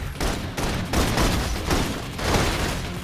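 Rapid gunfire fills a video game battle, with dense overlapping bursts of shots running steadily and loudly throughout, close and with no pauses.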